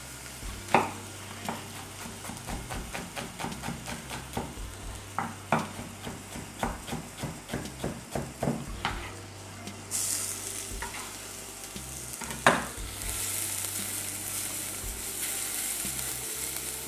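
Shallots sweat in a hot pan while being stirred, with a steady run of rhythmic scraping stirs over a soft sizzle that grows into a brighter, louder frying hiss toward the end, close up with no talking.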